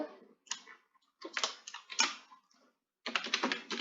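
Python code being typed on a computer keyboard: quick bursts of close, crisp key clicks separated by short pauses, with a longer rapid run at the end.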